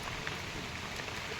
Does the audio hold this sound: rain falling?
yes